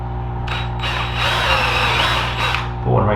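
A power drill bores holes in wood for a handmade boot tray bonsai pot, a close, loud whine that surges and dips over a few seconds, with a brief pause mid-run and a short burst at the end.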